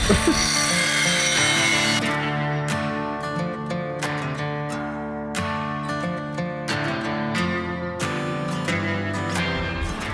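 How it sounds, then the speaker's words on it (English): An angle grinder cuts metal on a Can-Am Outlander 1000 XMR, a loud continuous harsh whine with steady tonal ringing and periodic scraping surges as the wheel bites, close and dominating throughout. "grinder, sawzall, or plasma cutter? Grinder, death wheel."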